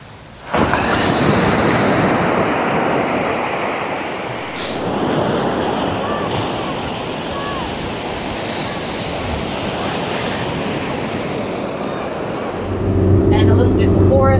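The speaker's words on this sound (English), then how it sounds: "Gonna come down and take a quick look at the beach here at Apollo Bay." At the beach at Apollo Bay on the Great Ocean Road, surf washes in continuously under strong wind buffeting the microphone. Someone talks over the steady roar.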